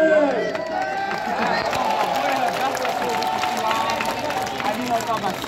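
A large crowd in the Pula arena roars and cheers steadily, a dense rumbling mass of voices with individual shouts rising throughout, close and loud.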